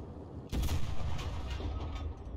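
Gunfire in the Enlisted war game, a heavy blast that opens abruptly and is followed by a rolling, rumbling barrage of shots that stays loud to the end.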